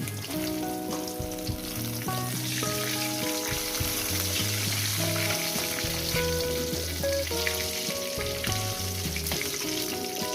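Pieces of rui fish sizzle and crackle steadily in hot oil in a pan, a continuous loud frying hiss with occasional stirring, alongside a tonal hum, with no talk.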